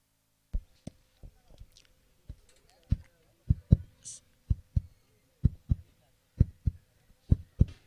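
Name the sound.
heartbeat sound effect in cricket broadcast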